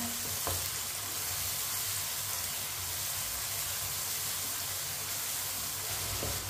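Tomatoes for aloo matar cooking in a pan give off a dense, even sizzling hiss that holds steady throughout, with a couple of faint taps and no talking.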